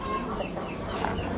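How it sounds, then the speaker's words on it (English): Clucking from chickens and a rooster among caged poultry at an Amish animal auction, a steady busy murmur of fowl with no clear crow, continuous and moderately close. "Big old rooster."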